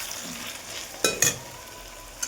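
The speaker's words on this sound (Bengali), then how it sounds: "পেঁয়াজটাকে লাল লাল করে ভেজে নেব" Onions frying with a cinnamon stick and small cardamom, with potatoes already fried. A soft steady sizzle is broken by two louder stirring scrapes about a second apart.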